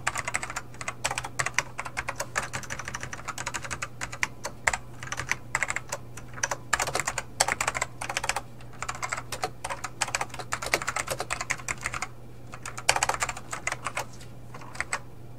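Java code typed on a computer keyboard in quick bursts of close, crisp key clicks with short pauses in between, over a faint steady hum and no talking.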